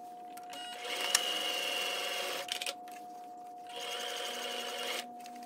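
A sewing machine stitches suit fabric in two fast whirring runs separated by a short pause with a few clicks, close and steady, with no one talking.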